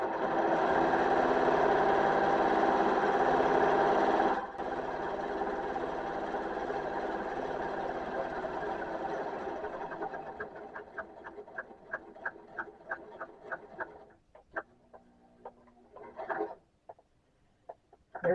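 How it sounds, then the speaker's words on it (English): A serger sewing machine sews a rolled hem on Thanksgiving napkins, droning loud and steady, then breaking into rapid stuttering bursts and short runs before it stops; no one speaks. "There is nothing quiet about a serger."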